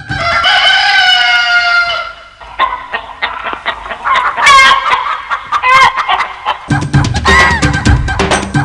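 Chickens kept for a folk snakebite remedy in Khammam district, a long loud rooster crow up close followed by a flurry of clucks and squawks from several birds.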